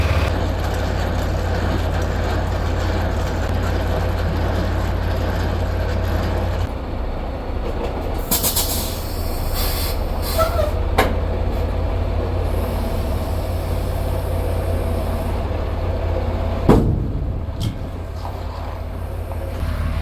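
A heavy semi truck drops its trailer in the West Virginia mountains, with a loud, steady diesel rumble throughout, a sharp hiss of air brakes partway through, and a few metallic clunks and bangs near the end.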